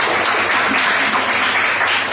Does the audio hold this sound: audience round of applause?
yes